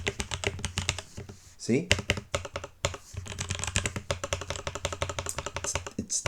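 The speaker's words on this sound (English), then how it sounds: "That spacebar sound is dull." Rapid, continuous typing on a computer keyboard with a dull-sounding spacebar, close and crisp, with a brief pause partway through and someone speaking over the keystrokes.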